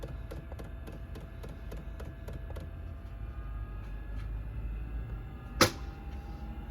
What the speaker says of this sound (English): I can hear the heater firing up above